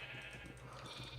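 Sheep in a video game bleat repeatedly during breeding, a steady run of close, nasal calls over a constant low hum from the game.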